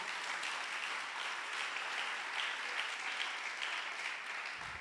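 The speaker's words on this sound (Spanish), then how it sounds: "Dele fuerte ese aplauso a Jesús" A church congregation claps hard and steadily for Jesus during a Spanish-language sermon on discipleship, a thick continuous roar of many hands at even strength, with a brief dip near the end.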